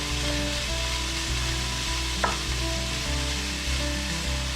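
Japanese-style ketchup fried rice sizzling in a pan over medium heat, a close, steady frying hiss with faint rhythmic humming tones underneath and a single small clink midway.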